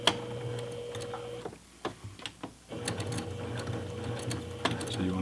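A sewing machine back stitches through makeup bag fabric with a rhythmic mechanical ticking whir, stops briefly for a few clicks, then sews on steadily, close and clear.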